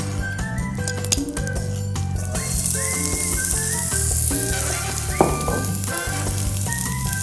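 Onion and red onion fry in olive oil, a continuous loud sizzle with occasional clinks of utensils and faint whistling tones over it, no talking.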